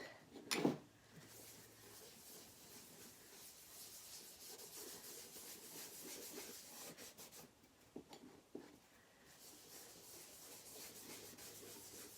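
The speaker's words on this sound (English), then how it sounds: "I'm just using the natural wax by Minwax. I'm just going to rub it on the whole surface." Minwax natural wax rubbed by hand across a wooden cutting board, a soft steady scrubbing friction that runs continuously at low level, close by with no talk.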